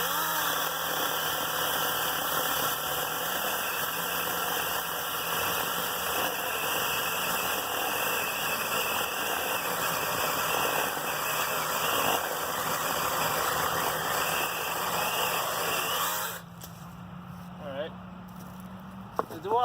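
A DeWalt electric chainsaw runs at a steady, close, droning whine for about sixteen seconds, then cuts off abruptly and leaves only quiet background with a couple of faint knocks.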